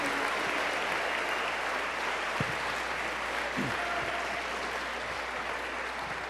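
A church congregation applauds in a dense, continuous wash of clapping that stays even and sustained throughout, heard from within the room.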